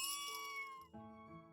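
A kitten in the cozy game Little Witch in the Woods meows in a clear, drawn-out tonal call that bends downward partway through, with a soft chime ringing behind it.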